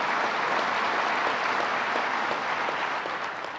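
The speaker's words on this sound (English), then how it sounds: "let's give a big round of applause for her, for our gratitude" A sustained round of applause from the audience at a state economic development announcement, an even wash of many hands clapping at moderate distance with no talk over it, thinning a little at the close.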